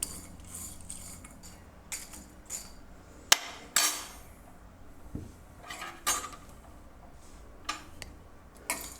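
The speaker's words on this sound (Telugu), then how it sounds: "స్టార్ ఫ్లవరు, యాలకులు మొత్తం అన్నీ వేసేసి దోరగా వేయించుకుందామండి లో ఫ్లేమ్లో." Star anise and cardamom dry-roasting in a pan over a low flame, heard as scattered light ticks, taps and metallic clinks of spoon and spices against the pan over a faint steady background hum, with no voices.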